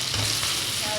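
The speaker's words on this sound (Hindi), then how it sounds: "ये देखिए चिकन हमारी अच्छी से फ्राई हो गया" Chicken pieces sizzle steadily in a hot pan while being fried for biryani, a close, continuous crackling fry with no talk.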